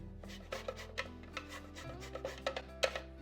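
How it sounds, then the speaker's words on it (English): A lemon scraped over a grater zester above a food processor, giving soft irregular rasping strokes, quiet and close, with a faint steady hum underneath and no talking. "Just use a grater, zester like this, and zest it right over your food processor"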